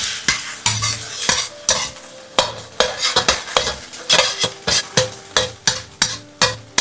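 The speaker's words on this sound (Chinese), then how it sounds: "油熱後倒入打好的雞蛋，快速翻炒至凝固" Beaten eggs hit hot oil in a wok and are stir-fried fast, with a steady sizzle under repeated close, loud scrapes and clacks of the utensil against the pan in a quick, uneven rhythm.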